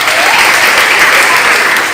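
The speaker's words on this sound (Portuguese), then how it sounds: "Palmas para os nossos heróis." Loud, dense applause from an audience for two volunteers at a school event, a continuous close wash of clapping filling the whole moment without speech.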